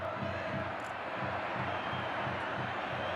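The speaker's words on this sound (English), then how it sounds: "Packed crowd at the Vicente Calderón" A packed stadium crowd at the Vicente Calderón for an Atlético–Real Madrid Cup quarter-final derby roars in a dense, continuous wash, with rhythmic chanting pulsing underneath.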